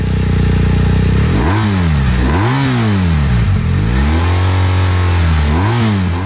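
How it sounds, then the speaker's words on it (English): BMW R 1250 RS boxer-twin motorcycle engine blipped repeatedly, several sharp rev rises and falls over a steady idle, loud and close with no talking. "with the boxer twin and its even firing intervals, it always feels a bit flat, and the sound doesn't exactly stir the soul"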